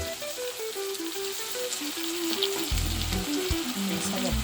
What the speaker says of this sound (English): I'm gonna add some coconut milk